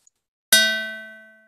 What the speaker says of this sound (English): a digital filter-based sound synthesis algorithm that simulates a plucked string